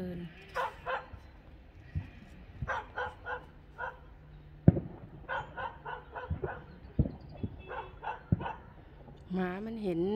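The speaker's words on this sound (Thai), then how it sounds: "หมามันเห็นม้ามันก็เลยเห่า" A dog barks at a horse outdoors in the early morning, giving repeated sharp yips and barks in uneven bursts with brief whimpers. People talk quietly between the barks.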